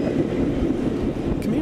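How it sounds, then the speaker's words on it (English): An Amtrak Pere Marquette passenger train at the restored depot in Bangor, Michigan, gives a steady close rumble of rolling rail cars with a faint brief squeal near the end, heard alone. "The train stopped at the beautifully restored depot in Bangor."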